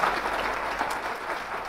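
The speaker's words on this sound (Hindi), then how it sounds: "तालियां बजा के दिखाओ" Applause from a seminar audience fills the short stretch, a dense, even patter of many hands clapping at close range with no voices over it.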